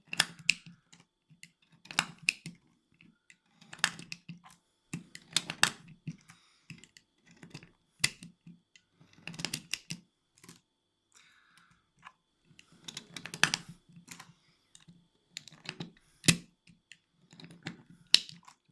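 Pistol cartridges, 9mm Luger rounds from Özkursan, Codex, Lagant and Sarsılmaz, pressed one by one into a new magazine, giving a steady series of sharp metallic clicks and snaps close to the microphone.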